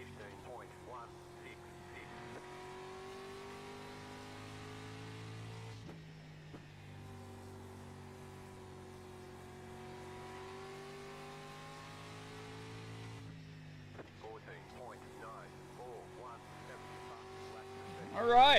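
Street stock race cars roar together in an iRacing rookie race at Lanier National Speedway, engines droning steadily with shifting pitch throughout, with a brief louder surge near the end.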